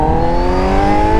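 Kawasaki Z900 motorcycle with a full 4-into-1 stainless steel 304 exhaust header and stock end can, engine revving loud and close in a strong steady rising drone.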